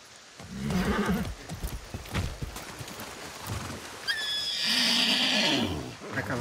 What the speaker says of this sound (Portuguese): Vai, cavalo, você consegue.